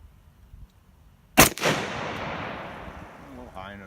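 A single loud, close rifle shot from a PSA AR10 chambered in 6.5 Creedmoor, a sharp crack followed by a long echoing decay over an outdoor range.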